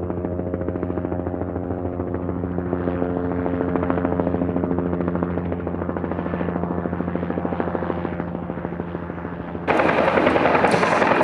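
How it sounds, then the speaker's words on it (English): A CAL FIRE rescue helicopter hovers low during a hoist demonstration at an air show, its rotor giving a loud, steady throbbing drone that stays constant with no speech over it. "With the rescue member now being hoisted back up on board the helicopter, the aircraft is able to start moving forward."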